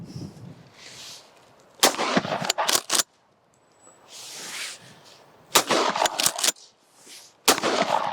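Shotgun blasts at an outdoor shoot comparing a 60-year-old shotgun with a new semi-automatic: loud, sharp reports in quick bursts of two to four shots, separated by pauses.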